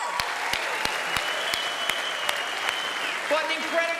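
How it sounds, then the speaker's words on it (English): Applause at the 2025 AFLW Best and Fairest awards night honouring winner Ash Riddell: sparse, evenly spaced sharp claps over a steady background hum, with a faint murmur near the end. "Let's have one more round of applause for your 2025 AFLW Best and Fairest winner"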